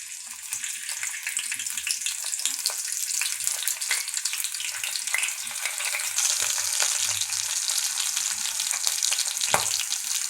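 Chopped green chillies sizzle in hot oil in a kadai, a steady bright crackle with scattered pops and occasional spatula scrapes, close and continuous with no voices.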